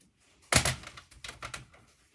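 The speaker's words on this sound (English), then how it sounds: "and you know what, I need to trim this too" Patterned cardstock paper being trimmed for a stamped card project, a sharp cutting thunk followed by a few lighter clicks and slides, close and quiet with no talking.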